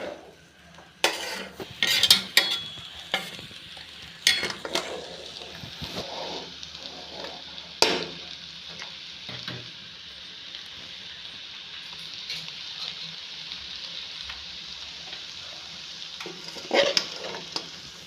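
Hakka noodles are tossed and stirred in a pan with clattering utensil scrapes and clinks over a soft background sizzle, the knocks coming irregularly and fairly close.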